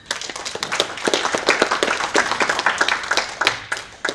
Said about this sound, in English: To NAM-IGF organizers, a round of applause.